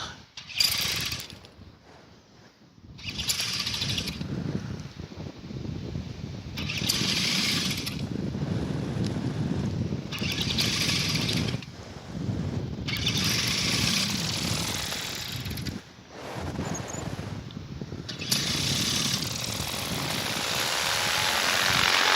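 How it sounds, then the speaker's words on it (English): Paramotor engine on a powered paraglider starting and running while ridge soaring, a loud continuous buzzing drone with surges and dips, close to the microphone, with no talking. "Okay, I'm going to start my engine"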